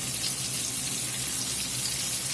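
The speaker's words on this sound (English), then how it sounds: "I'm gonna get these carrots and onions in here. Let them saute here a few minutes." Carrots and onions sauté in hot beef and bacon fat, producing a constant, dense sizzle close by with no pauses or talking.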